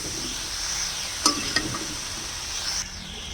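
Cauliflower frying with spices in a pan gives off a soft, steady sizzle, broken by a couple of brief clinks of stirring.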